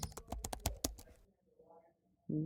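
Quick clicking keystrokes on a computer keyboard, about a dozen sharp taps in a fast burst, then a pause with faint room noise before another sound starts at the end.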